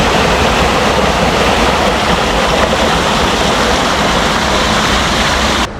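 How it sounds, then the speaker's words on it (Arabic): Waterfall at Al-Wadih reached on a Suzuki DR650 motorcycle trip, a loud, steady broadband roar of falling water that fills the whole stretch without pause before cutting off abruptly at the very end. "الشلال شايف أنا من هنا"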